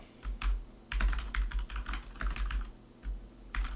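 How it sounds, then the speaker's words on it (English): Rapid typing on a computer keyboard, close and fairly soft, a steady run of clicking keystrokes with short pauses, no voices over it. "We already got to be careful with typos when typing that word."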